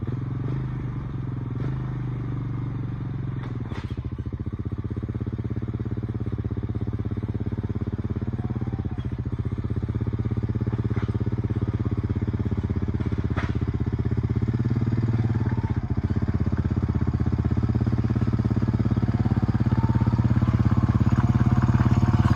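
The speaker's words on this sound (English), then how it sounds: "drive on the four-wheeler, and get this dirt chopped up a little bit" A four-wheeler ATV churns up dirt on an old logging road being turned into a food plot, its engine a steady, continuous drone with faint clattering, close by and without talk.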